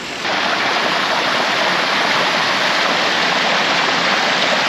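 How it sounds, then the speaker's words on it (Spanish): A small waterfall in a Baja California Sur canyon pours with flowing water, a loud, steady, close broadband rush with no pauses and no talk. "solo la cascadita, el agua y los pajaritos"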